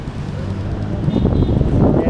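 Strong wind and heavy rain at a seaside boulevard; gusts buffet the microphone with a rough, roaring rumble that builds slightly toward the end.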